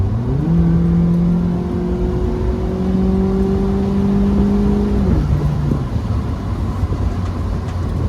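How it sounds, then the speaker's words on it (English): A Mazda Miata MX-5 sports car exhaust revs and holds a steady droning tone, then drops in pitch as the revs fall back, loud and close with no talking. "I'd rather hear the exhaust anyway."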